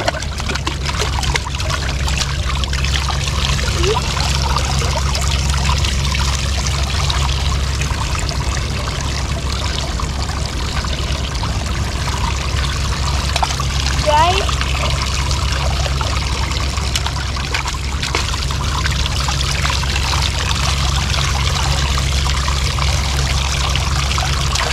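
Water runs and trickles steadily for a long stretch while filling water balloons, a constant flowing, pouring sound with a low hum underneath.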